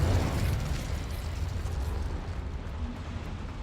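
A Confringo blasting spell bursts in Hogwarts Legacy, a dense, rumbling boom with a heavy low end that swells at once and then stays as a steady, slowly fading roar, with no voices over it.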